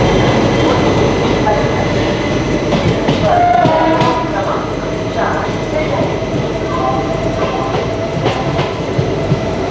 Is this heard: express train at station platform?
yes